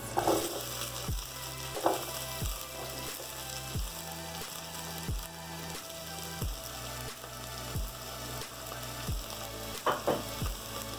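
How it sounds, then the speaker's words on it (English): Onions fry in a thin coat of oil in a pot, making a continuous mid-level sizzle with light crackling and a series of soft, regular knocks underneath. "Let that saute up for a bit, or fry up until lightly golden brown"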